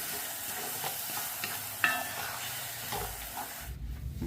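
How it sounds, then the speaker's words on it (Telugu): Onion and spice mix for spinach curry stirred and frying in a pan over low heat, a steady close sizzle with scraping stir strokes and one sharp clink of the spoon, no talking. "ఇప్పుడు స్టవ్ను సిమ్లో పెట్టుకొని ఈ మొత్తాన్ని ఒకసారి బాగా కలిపేసి ఒక 2 నిమిషాలు ఫ్రై చేసుకుందాం."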